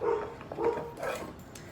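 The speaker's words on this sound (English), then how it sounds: "I think you can probably still hear my dog barking" A few faint, muffled dog barks sound from a distance in another room, spaced irregularly against a quiet background.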